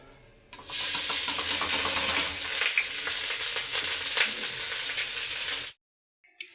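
Grated carrots dropped into hot ghee for carrot halwa burst into a loud, close, continuous frying hiss with crackle and stirring, which stops abruptly near the end.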